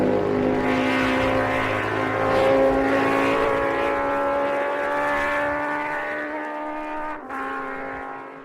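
MV racing motorcycles roar along the Isle of Man mountain course on the last lap, a loud, sustained multi-engine howl that swells and then eases as the bikes pass.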